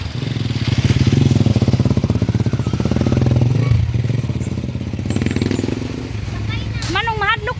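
A motorcycle engine starts and runs at a steady idle close by, with a rapid pulsing throb and some clatter, while people talk over it outdoors.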